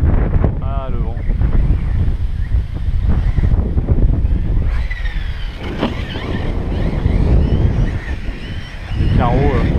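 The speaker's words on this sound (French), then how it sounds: "le vent" Strong outdoor wind buffeting the microphone, a continuous low roaring rumble throughout, with faint whining tones briefly rising above it now and then.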